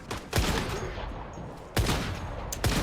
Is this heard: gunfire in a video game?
yes